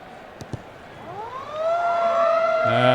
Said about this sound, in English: Hear the siren for half time